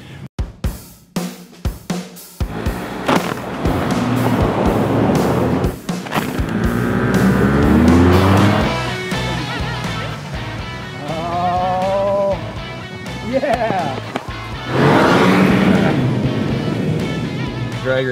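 Cars drag racing on a frozen lake, with engines revving and roaring in bursts of varying pitch, loud and close, separated by brief gaps and sharp transients.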